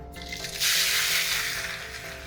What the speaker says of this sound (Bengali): নারকেলটা একটু ভেজে নেবো প্রথমে